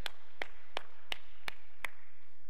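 Six sharp, evenly spaced hand claps ring out in a steady rhythm from a church congregation at a prayer-mountain revival meeting, crisp and fairly close with no talk over them.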